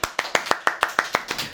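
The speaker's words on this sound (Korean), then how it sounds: "박수!" An audience applauds a guest being welcomed on a talk show, about ten sharp, evenly spaced claps in quick succession, close and distinct rather than a dense ovation.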